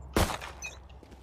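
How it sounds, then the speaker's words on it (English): A single sharp close gunshot from the Valorant shooter game, a loud crack followed by a short decaying tail and faint game sounds. "This is how I shoot people, Harvey."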